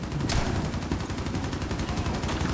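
Rapid bursts of automatic gunfire from a Rainbow Six Siege match, loud and continuous with a sharp initial shot, no talk over it.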